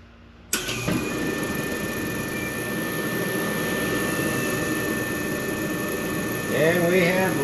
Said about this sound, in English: And we'll test fire it here. We'll force it to fire. It should start.